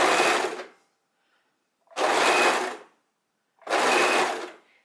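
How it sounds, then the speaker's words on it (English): A sewing machine sews a seam on a scarf top in three loud, close bursts of stitching, each lasting about a second, with silent gaps between them. "we're just gonna start sewing a few centimeters before where we had put the needle and before the seam"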